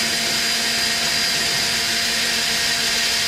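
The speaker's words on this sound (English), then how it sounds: "now we put it into reverse and back the tool back out until the cutter is free from the" A powered counterbore cutter running in reverse as it backs out of a pipe, a steady loud motor whine with a broad grinding hiss that holds constant throughout, no voices over it.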